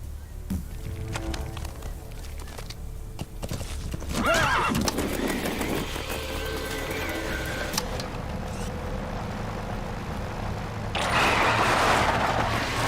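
In Metal Gear Solid V, the horse D-Horse trots with steady clip-clop hoofbeats and lets out a neigh, over a low game ambience and a rumbling vehicle-like drone.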